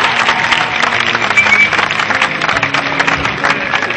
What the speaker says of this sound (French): Applaudissements pour son excellent jeu à toi aujourd'hui